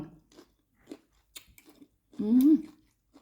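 Someone chewing hot sticky rice at very close range: sparse soft wet smacks and small bites, then a brief voiced sound near the end.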